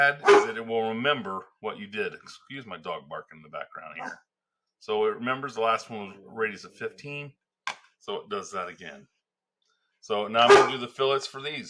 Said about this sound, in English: Excuse my dog barking in the background here.